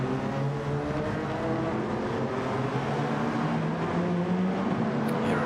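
Racing cars, a Lamborghini and an NSX, drone steadily in a racing video game, several engine tones layered together at an even, continuous loudness with no voices over them.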